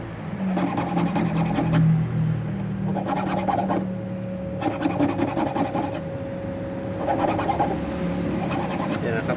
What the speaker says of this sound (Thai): ใช้ตะไบเล็กลูกเล็กนะครับ